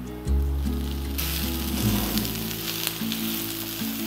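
Boiled potatoes cut lengthwise hitting hot oil with sautéed onions and curry leaves, a sudden loud sizzle that flares up and keeps crackling steadily, close and with no voices over it.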